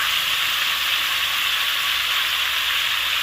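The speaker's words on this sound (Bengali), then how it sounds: "টমেটোটা দিয়ে নেড়ে চেড়ে একটু ভেজে নিতে হবে" Tomatoes stirred and fried in a pan for a rui fish jhol, a dense, even hiss of sizzling oil holding steady throughout, loud and close, with no voices.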